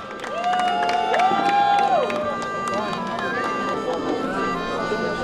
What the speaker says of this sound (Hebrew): מחיאות כפיים לבוגרים